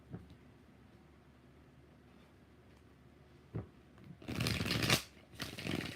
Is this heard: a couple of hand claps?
no